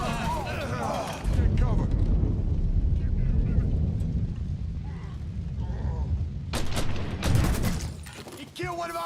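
Grenade blast and gunfire in the Mafia video game on PC, a loud burst erupting after a shouted warning, followed by rumbling combat noise and later sharp bursts of shots, with men yelling over it.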